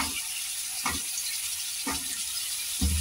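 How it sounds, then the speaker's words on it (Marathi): Potato pieces and turmeric sauté in a pan for a brinjal-potato curry, with a steady hiss of frying and three or four soft scrapes or stirring knocks at even intervals. Nobody speaks. "आता हळद टाकूया याच्यात आणि आता हे बटाट्याच्या फोडी याच्यात टाकायच्या आपल्याला"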